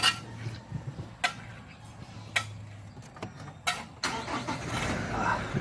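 A Toyota Fortuner's engine runs with a low steady hum, punctuated by several sharp clicks and knocks, then a rising rush of noise toward the end.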